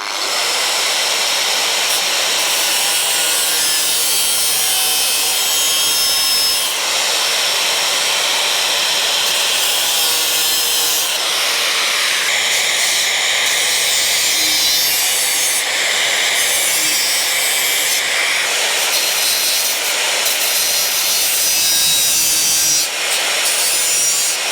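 Power tool cutting into metal end pieces in a metalwork job, a loud, continuous, harsh grinding rasp close by that holds steady for the full length with slight shifts in pitch.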